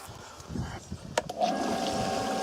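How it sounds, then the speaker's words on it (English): A pool sand filter pump starts partway through and then runs with a steady mechanical hum over faint background noise. "start the pump"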